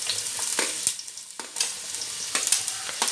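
Onions fry in coconut oil in a kadai for a chicken gravy. Soft crackling sizzle is broken by repeated sharp scraping bursts of stirring at an irregular rhythm.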